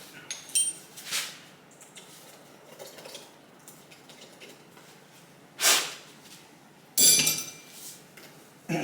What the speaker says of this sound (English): now I gotta take this bolt out that's down the bottom